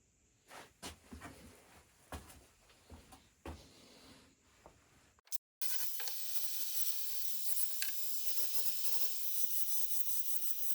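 A very thin file works metal for a handmade knife with irregular, faint rasping strokes, then a continuous, louder harsh scraping noise takes over.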